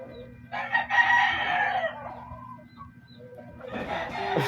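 Chickens cluck and a rooster crows nearby, two bursts of fowl calls over a quiet low hum.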